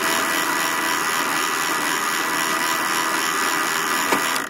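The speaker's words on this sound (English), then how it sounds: "I'm going to be doing a countersink into these bad boys" A drill whirs steadily as it countersinks screw holes in a liner for a custom Qvist Variant knife, a loud, constant high-pitched hum that holds evenly before cutting off at the end.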